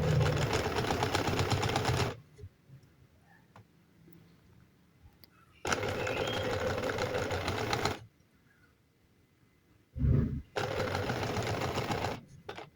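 A domestic sewing machine stitches a V-neckline in bursts: a fast rhythmic whirring run, a pause, a second long run, a brief start, then a third run, close and clear with quiet gaps between.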